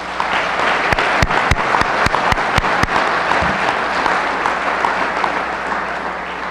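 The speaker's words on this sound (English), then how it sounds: "And for that, I think we need a round of applause as well." A press conference audience gives a round of applause, moderately loud steady clapping with several sharp, louder claps standing out near the start.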